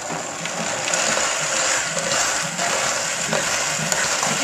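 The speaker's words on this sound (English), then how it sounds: "So I'm just going to give this a good blend until it turns into like a puree." A blender whirs steadily and close up, pureeing red peppers and basil into a smooth paste.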